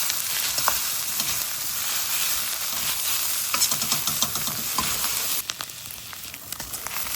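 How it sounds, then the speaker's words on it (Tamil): Prawns sauté in a hot pan with cabbage for prawn 65 noodles, a loud continuous sizzle broken by close scraping stirs and clicks that thin out toward the end. "போட்டு நல்லா சாட்டே பண்ணுங்கள்"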